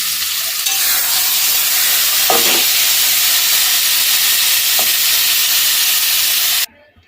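Taro stolons stir-fried with a little sugar in a pan give a steady, close sizzle and hiss with a couple of brief stirring scrapes, cutting off abruptly at the end.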